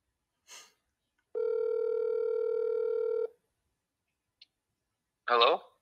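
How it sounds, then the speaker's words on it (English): A telephone call rings out as one long steady electronic tone with a few brief clicks, then an automated voicemail voice briefly picks up. "Can you hear the phone ringing and their voicemail pickup?"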